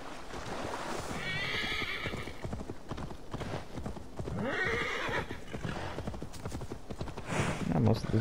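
In Assassin's Creed Valhalla, a horse's hooves clop steadily while it neighs loudly twice, the whinnies standing out over water sounds, game music and a voice talking.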